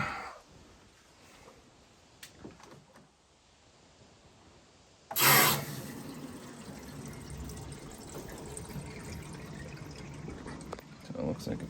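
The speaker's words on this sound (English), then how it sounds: "We're gonna turn the water back on." After quiet handling noises, water rushes in with a sudden burst as the supply is turned back on to a Rheem tankless water heater, then settles into a steady hiss of filling and flowing water.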